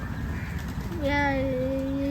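Pigeons coo with a clear rising, wavering call in the near foreground over steady background noise and murmur, from a large flock in an outdoor area.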